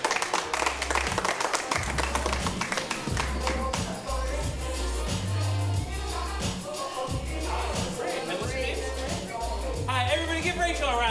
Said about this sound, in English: everybody give Rachel a round of applause